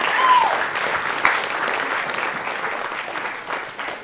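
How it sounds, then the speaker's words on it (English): An audience at a 20th-anniversary gathering claps for the event organisers, a dense, sustained round of applause close by, slightly louder at the start and easing toward the end, with a brief whistle near the start. "if we can just give a round of applause to all the people who put on today's event."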